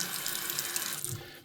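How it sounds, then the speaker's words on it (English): Cold water runs steadily from a sink faucet, a continuous close hiss and splash that thins slightly near the end. "if you turn the cold on, got water, got pressure"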